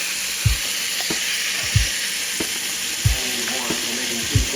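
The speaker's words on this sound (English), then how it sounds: "Keep turning your steak." Garlic steak sizzles steadily in a hot pan, a constant bright hiss broken by several low knocks and scrapes as the meat is turned, with no talking.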